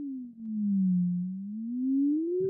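A theremin voice in the Ostrilator app glides as one clean, steady sci-fi tone, dipping slowly and then rising again with no other sound around it.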